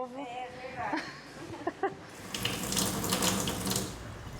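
Tap water running into a sink, a steady broadband rush that comes in partway through after a short spoken stretch, fairly close and continuous.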